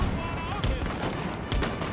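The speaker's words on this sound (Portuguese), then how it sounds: "eu vou meter tiro neles agora" Musket volleys in the video game Total War: Napoleon: dense, rolling crackles of massed gunfire that continue loudly with a few sharper bursts, over constant battle noise.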